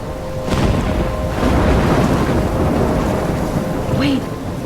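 A thunderstorm in the video game Life Is Strange: heavy rain hisses steadily with low rumbling thunder swelling through the middle, loud and continuous, and a brief higher tone near the end.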